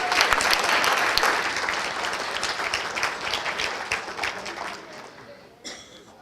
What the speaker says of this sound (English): How about a big round of applause for it?